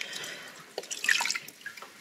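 Water drips and small splashes while hair is washed, a few scattered close drops and trickles over quiet background.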